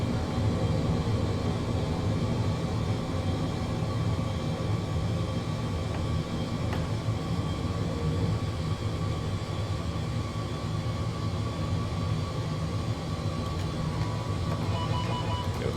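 A Boeing 787-10 climbs out after takeoff in Flight Simulator 2024, its engines giving a steady, loud, dense roar that holds unchanged from start to finish with no voices over it.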